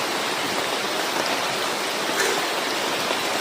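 Steady rain falls outdoors in a continuous, even hiss, fairly loud and close, with no voices over it.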